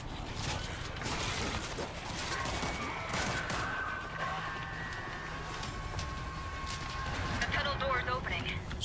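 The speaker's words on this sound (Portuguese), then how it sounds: "deixa eu colocar aqui a metralhadora automática" Automatic machine gun fire in the zombie shooter World War Z, a dense sustained roar of rapid shots and explosions filling the whole stretch under game noise, with someone talking over it.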